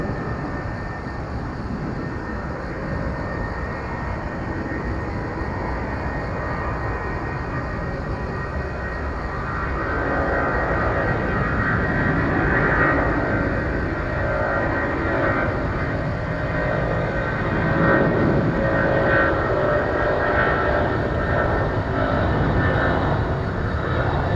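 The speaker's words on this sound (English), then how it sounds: "this is Flight 369 to Gwangju, an Airbus A330." An Airbus A330 airliner at Incheon airport produces a broad, distant roar of jet engines that swells louder partway through and then holds as a steady rumbling rush.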